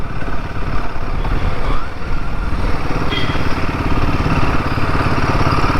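A Royal Enfield Himalayan 450 motorcycle being ridden in normal city conditions, its engine giving a continuous loud rumble mixed with road and wind noise, with no talking over it.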